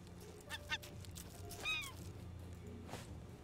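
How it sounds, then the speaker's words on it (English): A bird honks in the survival video game Raft, a few brief goose-like calls rising over a quiet ambient game background, moderately loud, with no speech. "I hear a bird."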